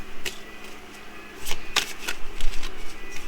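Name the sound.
shuffling tarot cards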